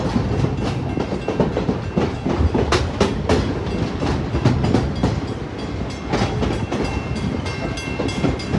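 A passenger train on the Niles Canyon Railway, running along the original Transcontinental Railroad right-of-way, rattles and clatters steadily with rhythmic clickety-clack of wheels on rail joints, loud and close from onboard.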